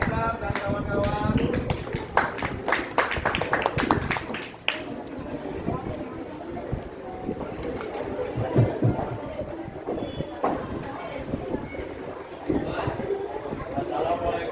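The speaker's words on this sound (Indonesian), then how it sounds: "Tepuk tangan dulu buat kelompoknya Kaisar dan kawan-kawan." A classroom audience claps for a presenting group during an academic coaching session, a dense burst of many hands that is loudest at first and then thins into scattered chatter and voices.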